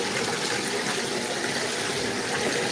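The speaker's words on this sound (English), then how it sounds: "let me put this water on." Water runs steadily from a tap as a pot or kettle is filled indoors, making a constant, moderately loud rush with no talk.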